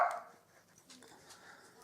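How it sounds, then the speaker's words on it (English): A dog barks once near the start, a short sharp bark in a quiet indoor room, with faint muffled sounds trailing after it. "My dog ruins every video that I make, barking at people knocking on the door."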